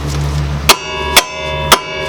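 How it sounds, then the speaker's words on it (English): Three sharp metallic hammer strikes on a car's lower control arm ring out at a steady pace, each clang standing out loudly over a low background hum. "hit it with a hammer as you're pushing it through"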